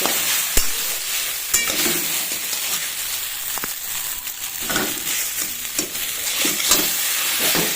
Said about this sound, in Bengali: ম্যাগি মশলা দিয়ে এখন আমি এটা নেড়ে নিচ্ছি